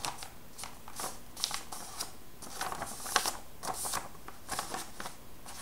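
Paper folded for an American flag fan craft, with a run of close, crisp crinkles and creases arriving in short irregular bursts and no talk.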